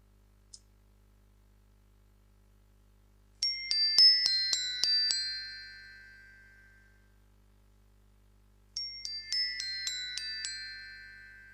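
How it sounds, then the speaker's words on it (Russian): A metallophone with colored metal plates struck by a wooden stick rings out in two bright runs of quickly repeated chiming notes, each run ringing on and fading gradually, with silence between and no voices. "У него есть цветные металлические пластинки, по которым ударяют деревянной палочкой, и получается звенящий звук, похожий на нежный-нежный колокольчик."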